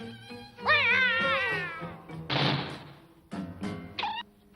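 A cartoon cat meows in a long, wavering, drawn-out yowl, loud and close, followed by a hissing burst and a few shorter cries near the end, with no talk.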